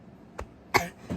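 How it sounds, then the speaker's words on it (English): Someone coughs a few times indoors, two to three short, dry bursts in quick succession, close to the microphone and fairly quiet. "My cough's coming back."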